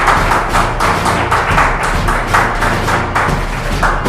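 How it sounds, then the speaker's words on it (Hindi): An audience claps loudly and steadily at a stage event, the applause close and sustained with a rough rhythmic pulse throughout and no voices over it. "एक बार जोरदार तालियां हो जाए।"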